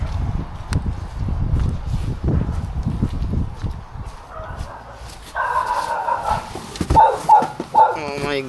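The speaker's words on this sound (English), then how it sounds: "Oh my god, dogs." Dogs barking in short, repeated bursts at a residential rear door, mixed with footsteps and movement, with a voice reacting over the noise.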